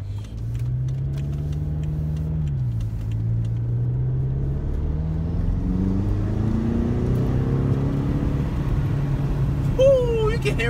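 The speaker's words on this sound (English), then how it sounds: "Oh, you can just hear the turbo spooling up." A BMW X6 M twin-turbo V8 drones steadily from inside the cabin, its pitch rising gradually as it accelerates, with a faint whistling turbo tone over the low engine hum and a voice speaking.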